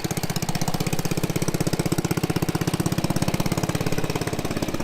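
A homemade tractor built around a motorcycle engine idles with a fast, even, chugging thump, loud and close, its steady putter holding unchanged throughout with no voices.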